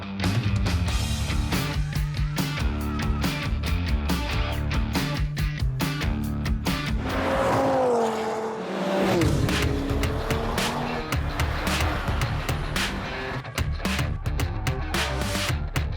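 A Toyota Supra and a Mercedes-AMG A45 are driven hard on a racetrack, with engines revving up and down, tire squeal, and a dense, loud, continuous roar throughout.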